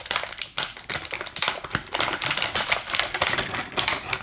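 Hard plastic backpack accessory for a GI Joe Classified Series Retro Snow Serpent figure being handled up close, giving a continuous run of dense clicks, taps and crinkly rattles with no speech.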